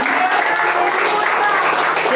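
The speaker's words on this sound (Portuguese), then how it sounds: "Você vai sair daqui, palmas para Jesus." Steady, dense applause from a church congregation, loud and continuous with no pauses, a broad wash of clapping filling the space.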